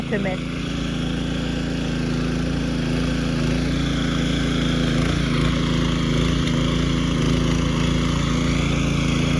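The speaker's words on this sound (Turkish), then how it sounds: "İnşallah motorun sesinden rahatsız olmuyorsunuzdur" Motorized tiller engine running steadily while turning over garden soil, a loud continuous droning hum with no breaks throughout.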